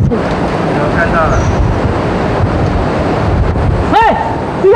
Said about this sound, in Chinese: 你看，那不是瀑布吗？ 瀑布到了。